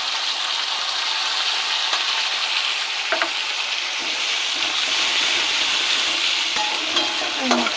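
Ground spice paste of ginger, green chilli and tomato frying with onions in a pan, a loud continuous sizzle broken by scraping stirs of the spatula and occasional clinks, with no talking.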